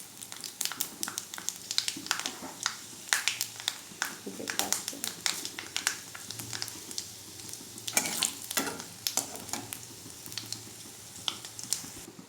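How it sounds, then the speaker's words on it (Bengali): Panch phoron and two bay leaves sizzle softly in hot oil in a pan, with dense crackling pops and spits throughout. A spoon occasionally stirs against the pan. "আমার তেলটা গরম হয়ে গিয়েছে, আমি দুটো তেজপাতা দিয়ে দিচ্ছি। দিয়ে দিচ্ছি পাঁচফোড়ন।"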